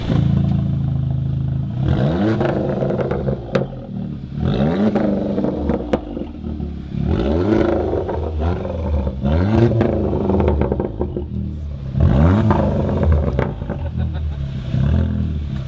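A car with a Guerrilla exhaust, valve open, revved repeatedly in short bursts that rise and fall, loud and close, with talk at the start and between revs.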